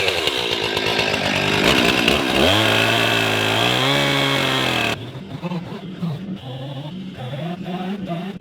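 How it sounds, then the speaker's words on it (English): A chainsaw cuts wood for an up-cycled cantilevered pool canopy, its engine loud and close, revving and bogging into the cut, then dropping to a rougher, intermittent idle. "if you guys have ever tried to cut something precisely with a chainsaw"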